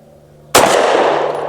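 A single sharp, loud pistol shot from a Tisas PX 9 Duty Comp firing Hornady American Gunner 124 grain 9mm ammunition cracks close by after a quiet pause, followed by a brief ringing decay.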